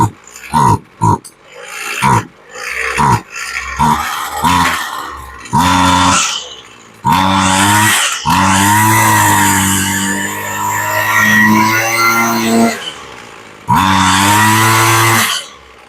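A Snapper weed eater's small two-stroke engine, freshly fitted with a replacement carburetor, sputters through several short bursts, then revs up loud and high in long sustained whines that dip and rise before cutting off and firing again.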